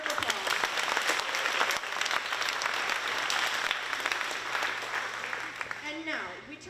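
An audience applauds after an acting scene with a full burst of crowded clapping that holds steady for several seconds, then thins and fades, with a voice beginning under the dying applause.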